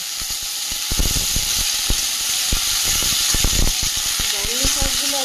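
Chopped okra and brahmi greens hit a hot pan of garlic and onion, giving a strong steady sizzle and hiss with scattered stirring clatter and a voice talking over it.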